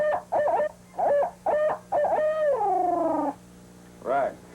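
A man imitates an owl with his voice, giving a series of short rhythmic hoots followed by a long drawn-out rolling call and one final hoot, close and clear.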